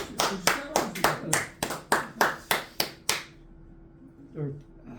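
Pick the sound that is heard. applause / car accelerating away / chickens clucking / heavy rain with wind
applause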